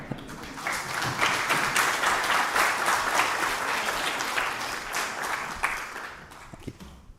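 Audience applause after a talk at JuliaCon 2023, a dense, steady wash of many hands clapping that swells and then slowly fades away, with no talk.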